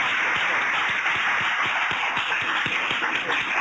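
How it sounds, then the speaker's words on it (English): An audience applauds at a medical grand rounds session, a steady wash of clapping over broadband room noise with distinct individual claps audible throughout. "I'd like you to give a generous round of applause."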